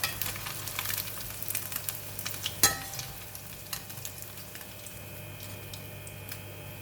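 Tofu frying in hot oil for sweet and sour tofu sizzles softly and steadily, with light scrapes, ticks and one sharp metallic clink as pieces are scooped from the pan.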